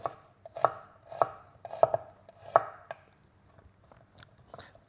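A knife chops an onion on a cutting board, the blade held at an angle and cutting straight down. Five or six sharp, close knocks land at an uneven pace, with quieter slicing between them and no voices.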